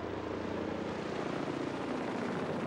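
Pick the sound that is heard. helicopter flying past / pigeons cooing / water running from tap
helicopter flying past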